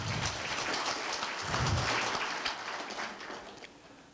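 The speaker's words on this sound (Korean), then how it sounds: "다시 한번 감사의 박수 부탁드리겠습니다" An audience at Korea University's 2018 Labor Culture Award ceremony claps in thanks, a steady, dense, fairly soft wash of many hands lasting several seconds without any voices.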